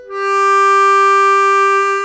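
A clean single note on a blues harmonica, one hole isolated, held steady and bright for about two seconds with a smooth swell and no strain or buzz, played alone.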